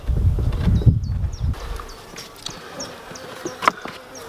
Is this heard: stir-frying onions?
no